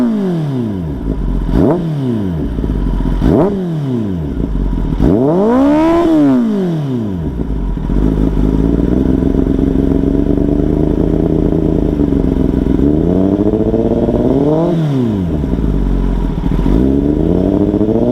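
Kawasaki ZX1 motorcycle engine revving hard in repeated sharp rising-and-falling bursts, then settling into a loud sustained idle with a couple more throttle blips, close and alone.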